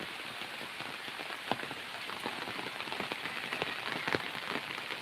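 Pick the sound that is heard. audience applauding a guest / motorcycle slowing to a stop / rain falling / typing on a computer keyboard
rain falling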